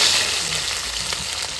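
Onions frying in a pan over a cooking fire at a night campsite, a loud continuous sizzle with a few faint clicks and no speech.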